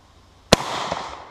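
A single sharp gunshot from a 113-year-old Krag-Jørgensen Model 1898 rifle in .30-40 Krag, fired on a range, rings out loud and close, followed by a short echoing tail.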